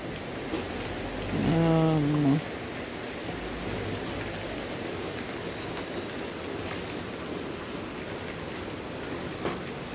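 Steady outdoor rain falls in a soft, even hiss across the whole stretch, with a brief tonal call rising over it near the start.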